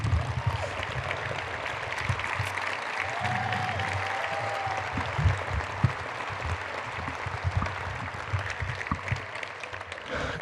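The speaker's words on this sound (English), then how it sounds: "please stand and give them a round of applause" Audience applause at a Michigan State Hall of Fame induction, sustained clapping from a large seated crowd with scattered louder claps and faint murmurs, continuing at an even level.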